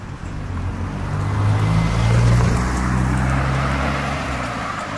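A car drives past at night in a big city, its engine hum swelling to a peak midway and fading again, loud and steady with no voices.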